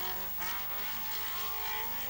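Rally car at speed on a stage section of the 1981 Welsh Rallysprint, its engine a steady loud roar with slight revving swells and tyre noise, continuous and fairly close throughout.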